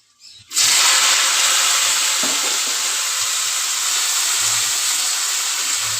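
Hot oil sizzles loudly in a wok as black cumin seeds and chopped okra go in, a sudden burst of steady frying hiss that holds for several seconds.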